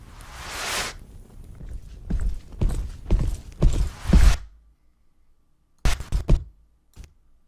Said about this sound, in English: some footsteps.